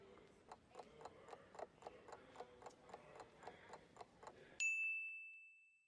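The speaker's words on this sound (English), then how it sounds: "You just got a text message from your hotel's pickup service." A phone text message alert gives a single bright, ringing chime that cuts in sharply after a stretch of soft, rhythmic clicking and then rings out into silence.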